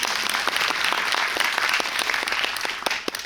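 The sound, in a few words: audience applause at film screening talk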